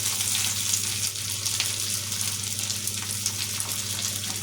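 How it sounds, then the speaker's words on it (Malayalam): Grated coconut sizzles steadily in a hot pan, a close, even hiss with a low hum underneath and no talking. "ഈ നാളികേരം നമുക്ക് നല്ല ചോന്ന നിറത്തിൽ ആവണ വരെ വറുത്തെടുക്കാം"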